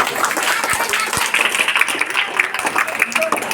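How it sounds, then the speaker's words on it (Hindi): Applause from a school audience at a Teachers' Day celebration, a dense, steady wash of clapping hands running throughout with a few sharper claps and faint voices mixed in. "एक बार जोरदार तालियां।"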